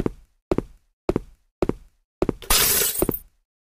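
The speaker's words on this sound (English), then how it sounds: "I should be able to break the glass now." Inside the Pink Monster Life Challenge game, a crowbar strikes glass four times in a steady rhythm of sharp knocks, then a fifth blow shatters it into a loud burst of breaking, tinkling shards, with no voices.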